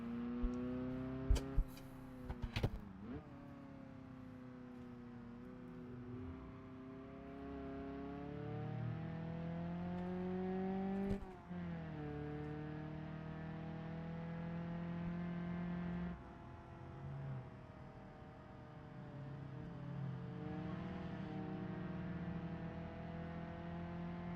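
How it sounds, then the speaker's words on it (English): A car engine in the driving game BeamNG hums steadily, its pitch rising and falling as it revs and shifts, with a few sharp clicks at the start. "So I don't have to listen to silence and the sound of this car."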